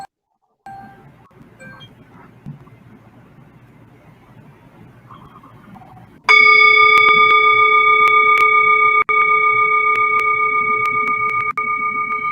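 A meditation bell rings out loud and clear during a calm breathing session, one struck tone that sustains and slowly fades over several seconds, following a quiet, low murmur.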